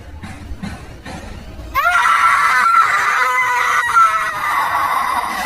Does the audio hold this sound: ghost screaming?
yes